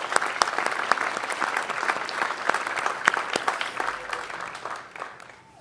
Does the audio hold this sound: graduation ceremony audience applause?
yes